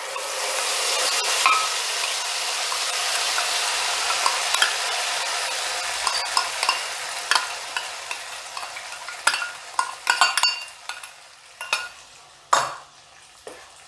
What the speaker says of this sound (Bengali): ভালো করে তেলের সঙ্গে মশলাটাকে প্রথমে কষাতে হবে।